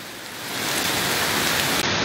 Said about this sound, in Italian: pioggia torrenziale, grandine